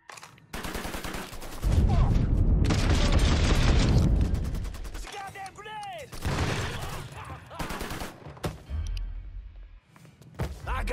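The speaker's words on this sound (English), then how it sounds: "Fuck! It's a goddamn grenade!" A grenade blast and gunfire in the video game Mafia III: loud bursts of shots and heavy thuds come in clusters, with a voice shouting over the combat at points.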